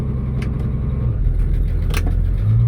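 A 1966 Ford Mustang engine runs steadily with a low, continuous rumble, with a couple of brief clunks as the transmission is shifted into reverse and then drive.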